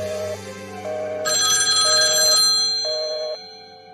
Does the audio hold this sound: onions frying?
no